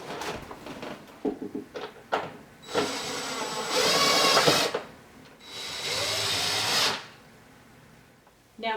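A power drill drives screws through a wall cabinet into its mounting cleat during cabinet installation, with two sustained whirring bursts of a few seconds each, preceded by scattered knocks and handling clatter.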